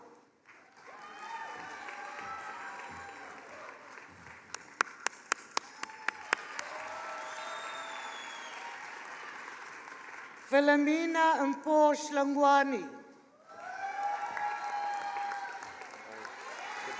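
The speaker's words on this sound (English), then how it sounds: "The applause is dying out here." A graduation ceremony audience applauds as graduate names are read aloud, with a steady crowd clapping under the announcer's voice, a few sharp close claps, and a burst of cheering and ululating voices midway.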